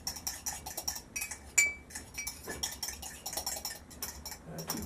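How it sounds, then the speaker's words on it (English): A fork clinks and scrapes against a glass or bowl as it smashes aloe vera and stirs honey into white rum, giving rapid, steady close-up tapping and clattering with no talking. "I'm using a fork because I can smash up that aloe vera and mix up"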